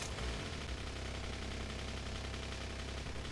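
A steady, high-revving video game car engine drones continuously with a buzzy, rattling tone, like a small two-stroke motor held at high speed, in Factorio.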